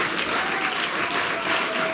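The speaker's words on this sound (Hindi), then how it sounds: "जोरदार तालियों से इनका अभिनंदन करें।" Steady, dense applause from an audience at a school science outreach event in Gua, continuous clapping filling the whole moment at an even, fairly loud level.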